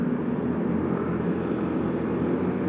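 A 2015 Honda Vario 150 scooter pulls away from a stop up a steep hill. The engine gives a steady, fairly loud drone that holds constant throughout, with no voices.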